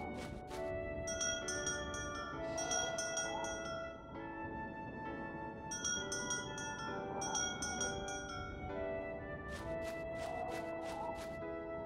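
A bell rings in the Harvest Moon video game, its bright metallic strikes arriving in several clustered bursts over a sustained tonal background, sounding alone without speech.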